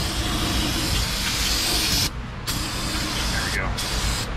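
Cleaner is sprayed onto a truck's differential cover in a garage, a steady loud hissing spray that cuts off briefly twice before resuming, with faint background noise.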